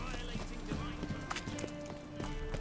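Clip-clop of the horse Roach trotting in The Witcher 3, a quick steady hoofbeat rhythm under game ambience, with a voice talking over it.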